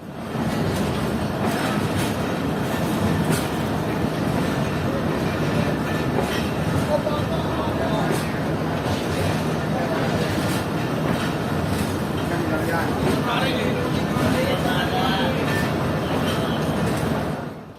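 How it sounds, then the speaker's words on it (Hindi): The Karachi Express rolls straight into platform 1 at Khanewal railway station, a continuous loud rumble of wheels and carriages with rhythmic clatter throughout, ending as the sound drops away. "हमारी ट्रेन बगैर ट्रैक चेंज किए यानी कि बिल्कुल सीधा सीधा लग रही है खानेवाल रेलवे स्टेशन के प्लेटफॉर्म नंबर 1 पर"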